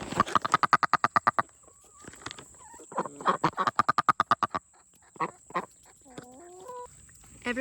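Pet duck Babyest letting out deep, rapid quacking bursts that run like a belly laugh, fast repeated pulses in two loud runs, then slower separate honks and squeaky calls, close and clear with no talking.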